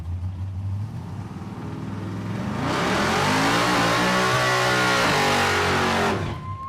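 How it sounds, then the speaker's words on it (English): A Chevrolet C10 does a burnout in the left lane at a drag strip. The engine climbs from idle into a loud, sustained roar of rising revs with a harsh broadband tire screech, then drops off abruptly at the end. "Josh Miller does his burnout in the left lane, the C10."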